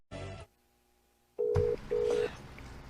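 A phone call being placed: a brief burst of noise, then a steady tone, then two long ringback tones in a row, with some faint background sound underneath.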